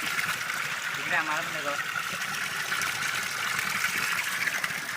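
Water gushing steadily out of a pipe laid in a village stream pool, without a motor, a constant rushing flow close by, with a brief voice heard faintly over it.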